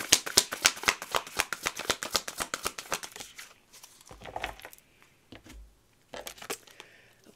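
Message cards for a card reading are shuffled close by in a quick run of crisp riffles. Softer, sparser card slides and taps follow after a pause.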